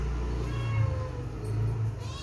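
A domestic cat meows in a drawn-out, wavering call, close and fairly loud over a steady low hum, repeating in two or three pitched cries.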